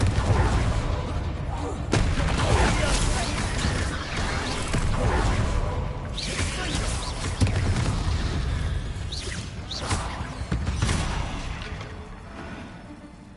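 Spell blasts and impacts from combat in Hogwarts Legacy, a dense barrage of booms, whooshes and crashes running continuously and loudly, with a voice shouting spell names over the action.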